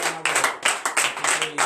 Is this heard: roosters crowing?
no